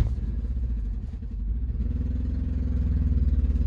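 A manual Honda CR-V engine idling and straining as the driver tries to reverse on ice: a low, steady, rough rumble with a rhythmic pulsing throb, close and continuous, with no voices.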